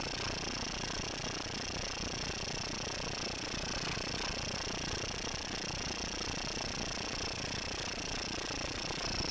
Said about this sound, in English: Grind the seat for only a few seconds